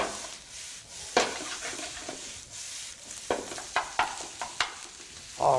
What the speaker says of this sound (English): And then I do a good mix and stir fry.